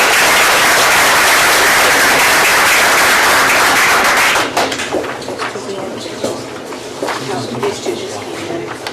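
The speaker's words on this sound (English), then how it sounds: "let's give them another round of applause" Applause from an audience at a school board meeting, dense and loud for several seconds before thinning into scattered claps and murmuring voices.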